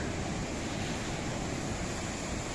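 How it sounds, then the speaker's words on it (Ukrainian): Steady roar of Atlantic surf on the Tenerife coast, a continuous wash of crashing water with wind rushing over the microphone, no voices. "Бачите, які страшні хвилі."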